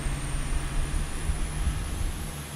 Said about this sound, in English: APU is starting.